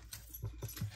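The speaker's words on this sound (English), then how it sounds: "Sorry about the dogs." Dogs moving about a room, with a few soft thumping footfalls and low panting bursts at a close distance, faint and intermittent.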